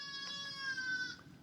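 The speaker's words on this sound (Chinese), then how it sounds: "咩，山羊。" Goat bleating once at a rural farmstead in a remote mountain village, a clear, sustained, wavering call heard close and alone.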